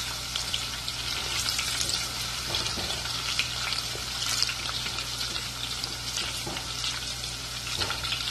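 Mackerel caramelizing in a hot pan gives off a steady, dense sizzle with soft crackles throughout, close and even, with no talking.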